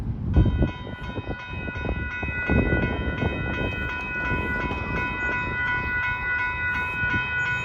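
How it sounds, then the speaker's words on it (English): A westbound coal train rolls past on track 1 with a steady heavy rumble and rhythmic wheel clatter, while a sustained multi-tone horn sounds continuously over the passing cars. "Looks like a coal train."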